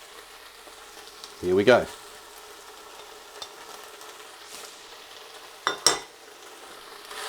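Chopped onions dropped onto seared beef in a Ninja slow cooker hiss and crackle in two short bursts, the second with a scrape of stirring, over a quiet low hum; a brief voice speaks between them.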